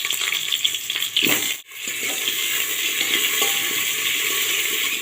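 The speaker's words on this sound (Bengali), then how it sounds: "সবাই প্রথমে আমি আলুগুলোকে একটু ভেজে নেব।" Cut potatoes fry in hot oil inside a pressure cooker, giving a loud, continuous sizzle with a brief stir or scrape partway through.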